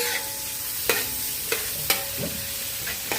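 An egg fries in a pan with onion, tomato and garlic, a soft sizzle broken by several sharp scraping clicks of a utensil against the pan at irregular intervals.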